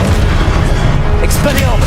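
The Expelliarmus disarming spell is cast during combat in Hogwarts Legacy: a loud, dense burst of magical impact with a booming low end, crowded into a short stretch of busy battle noise.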